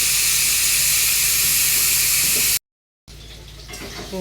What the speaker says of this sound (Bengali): মাংসটা কুকারে সিটি মারা হয়ে গেছে এই যে একটু ঠান্ডা করে তাড়াতাড়ি গ্যাসটা বের করে দিচ্ছি